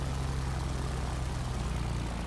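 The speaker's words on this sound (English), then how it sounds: "you can see and hear the engine sound" A Junkers F 13 propeller engine in a flight simulator game drones steadily, a low throbbing hum with constant loudness and no change in pitch over a couple of seconds.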